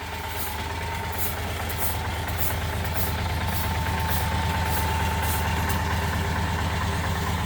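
A truck engine, rebuilt with a swapped engine head and gearbox, running steadily during a test drive, a loud continuous low rumble with a faint high whine and a regular ticking pulse, close and without talk.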